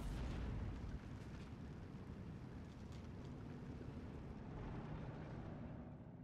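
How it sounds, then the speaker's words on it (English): Dense, continuous artillery fire and explosions from the WWII strategy game Steel Division 2 roll together into a loud, heavy rumble, with no voice over it. "artillery helping out these Fallschirm Pioneers"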